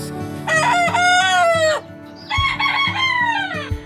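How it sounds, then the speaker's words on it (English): A young rooster that has just learned to crow gives two loud, close, strained crows in a row on a farm. "this beautiful chicken is actually a rooster, and he has just learned to crow, and his crow is pretty funny"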